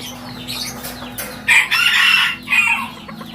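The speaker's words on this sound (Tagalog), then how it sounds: "So kung gusto mo alaga ng ganito, magagandang mga manok." Chickens cluck and call close by, with a few loud, drawn-out bursts standing out over a low steady hum.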